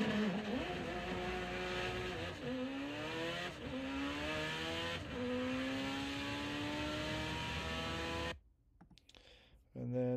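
Mitsubishi Evo 8 drag car, Motec M1 managed, accelerating hard down a quarter-mile pass, loud engine tone climbing steadily through several gear changes, then cutting off abruptly near the end.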